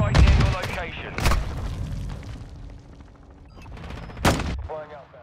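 Hostile airstrike in Call of Duty: Modern Warfare II, with loud, close blasts and bursts of gunfire in quick succession over a rumbling battlefield, while in-game voices speak between impacts.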